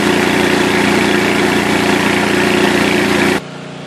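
A Turgo hydro generator runs at 25 PSI with two nozzles, putting out a loud, steady broadband rush and hum that cuts down sharply near the end.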